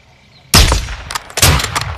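Loud gunfire from the Modern Warfare II shooter, with a sharp burst of shots around the midpoint and another cluster a second later, each crack followed by brief ringing decay.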